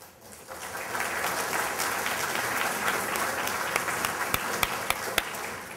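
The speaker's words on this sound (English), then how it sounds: "That's about the warmest applause I've heard for not such great news in a long time." Warm audience applause at a university town hall, a dense sustained clapping from a crowd that tapers near the end with a few last isolated claps.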